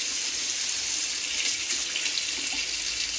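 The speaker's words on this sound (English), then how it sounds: "I'm going to turn my water on really high" A kitchen faucet runs hot water at full force with a steady, loud hiss of rushing water, unbroken from start to finish, with no voices.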